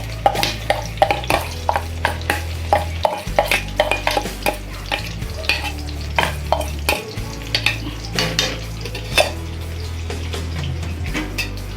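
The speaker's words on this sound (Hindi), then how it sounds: "और अब हम एक स्पून की मदद से इस पेस्ट को धीरे धीरे ऑयल में हल्का हल्का इसको हम भूनेंगे" Besan paste frying in hot oil while a spoon stirs it in a pan, steady sizzle with repeated scraping and clinking strokes against the pan over a constant low hum.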